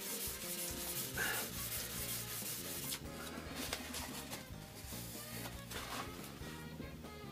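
Rhythmic scratchy rubbing of 1000 grit sandpaper across a Mora knife's steel blade to remove patina, close and steady with repeated back-and-forth strokes.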